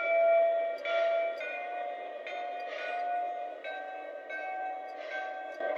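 A Lionel Baltimore & Ohio model train plays its five electronic bells, each a bright ringing chime repeating several times, fairly quiet and evenly spaced with short gaps between rings.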